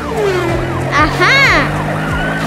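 A wailing fire engine siren rises and falls over upbeat cartoon music, with excited voices and playful effects around it.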